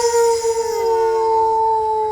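In a horror audio story, a long, drawn-out howl answering a bear's roar holds a steady pitch, sliding slightly lower partway through, loud and sustained with no voice over it.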